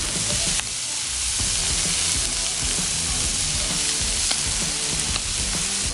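Pork sisig frying in a hot pan gives a loud, steady, dense sizzle and crackle that runs unbroken throughout, with occasional sharper pops and no talking.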